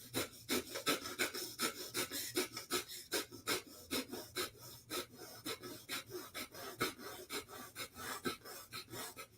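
Rapid, forceful breathing exercise with soft inhales and sharp exhales, a steady train of quick, loud puffs repeating about twice per second, close to the listener, with no talking.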